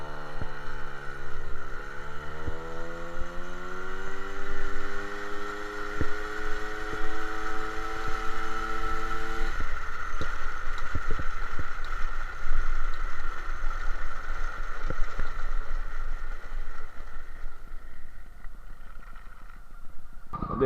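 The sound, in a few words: MBK 51 Magnum moped engine accelerating on road test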